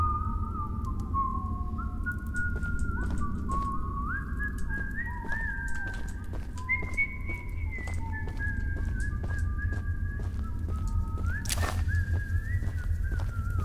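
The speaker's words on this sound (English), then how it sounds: "They all whistle." Characters in the video game Choo Choo Charles whistle in wandering, overlapping melodic phrases. The whistling carries on for many seconds over a low ambient drone, with scattered short clicks.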